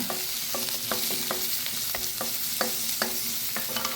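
Chopped onions are stirred and sautéed in a pan with masala for moringa chicken, a constant sizzle broken by quick, regular scrapes of a spoon against the pan.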